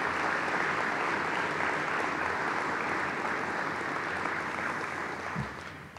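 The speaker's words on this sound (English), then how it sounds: "a round of applause." An audience at the Sioux Falls State of the City Address gives city council members a round of applause: a steady, broad wash of clapping from a large hall that tapers slightly at the end.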